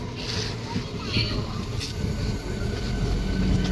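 A moving passenger train near Liluah, Kolkata, gives a steady rumble and rattle of wheels on rails under close conversation throughout.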